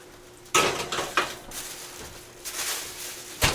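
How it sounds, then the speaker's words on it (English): A pan of oiled vegetables slides into an oven with clanking metal, a rattle of the rack and a door closing, a few close bangs and scrapes spread over a few seconds. "So this just goes right in the oven."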